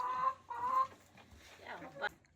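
Chickens cluck while scratching and rolling in the dirt, with short, close, irregular clucks and calls, and someone talks and laughs over them.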